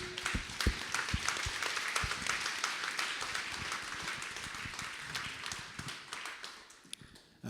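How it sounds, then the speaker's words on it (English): Audience applause at the IAPAC Gala 2024 panel discussion, honoring a young lady's bravery: steady, dense clapping from a crowd that holds for several seconds and then tapers slightly toward the end. "we owe that young lady one more round of applause for her bravery"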